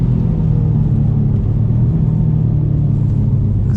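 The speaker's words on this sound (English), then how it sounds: "I can hear that wind noise straight away" Steady low wind roar and road rumble inside a stage 3, 900 whp BMW F90 M5 at high speed, a continuous dense drone with no voices.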